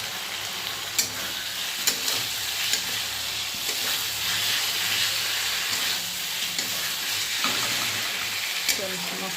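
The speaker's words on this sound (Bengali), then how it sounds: "তো চলো মশলাটা ভালো করে কষা হোক।" Masala paste for a fish curry sizzles and fries in a pan, with a steady crackling hiss broken by sharp scrapes and clanks of a spatula stirring it at intervals.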